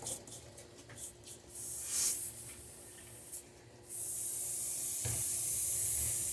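Airbrush being sprayed clean after painting a crankbait lure, several short hissing bursts of air followed by a longer sustained spray, close and fairly loud.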